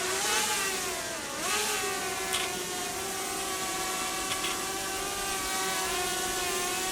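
A drone flying close to trees gives a steady, loud multi-toned whine with whirring harmonics, pitch dipping and rising briefly as it maneuvers, with no voices over it.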